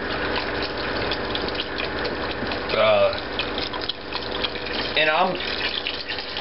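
Liquid pouring steadily into a pot while turtle soup is made, a continuous close gush with two brief splashy gurgles, under someone talking.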